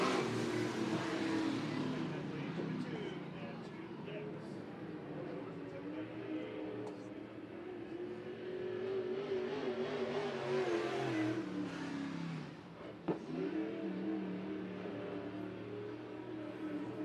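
Race cars roar around a dirt track at Deuce of Clubs Thunder Raceway in Show Low, Arizona, during a night heat race. Engines rev in a continuous loud drone, with an announcer talking over the cars.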